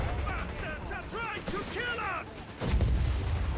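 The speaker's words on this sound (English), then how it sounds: "popping the automatic fire ability" Automatic gunfire in the Company of Heroes 3 strategy game: rapid sharp bursts crackle over a battlefield din, with a heavy boom near the end, while a commentator talks throughout.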